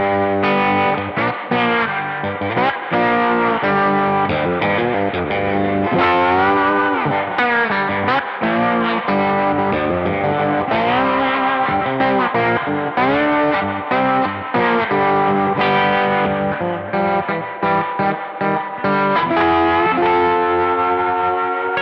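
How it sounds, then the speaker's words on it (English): Distorted electric guitar chords played through a Wampler Terraform pedal in tremolo mode with a wavering, pulsing texture, loud and continuous without any voices. "an advantage of this pedal over a normal tremolo is you don't get that perceived volume"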